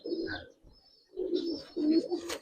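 Old-breed Giribaz pigeons coo in a loft, several soft rounded coos in bursts with short pauses, fairly close, with no talk over them.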